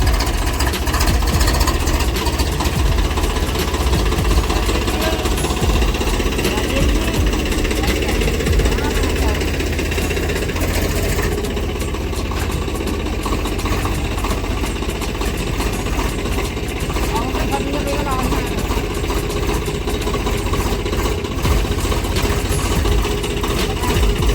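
A Swaraj 855 tractor engine runs at a steady idle out in the fields, a continuous close, loud diesel rumble with a rhythmic chug, while voices talk over it.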